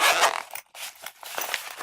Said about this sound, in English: You can unzip it,